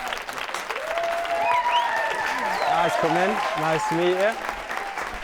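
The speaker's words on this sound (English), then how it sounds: "Round of applause, please," A studio audience applauds two contestants walking on at a university-produced dating show, a loud continuous wash of clapping heard while a host greets them and asks how they feel.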